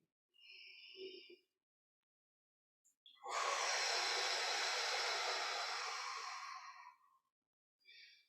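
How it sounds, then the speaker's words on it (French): Deep breathing during a guided meditation: one long, loud exhale or breath lasting several seconds, framed by softer brief sounds before and after in an otherwise quiet room. "3 grandes respirations."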